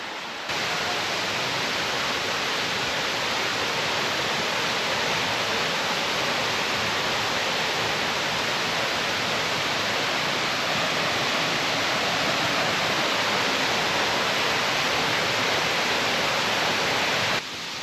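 Lumsdale waterfall near Matlock in Derbyshire pours in a steady, dense rushing roar that stays loud and unbroken throughout, with no voices over it.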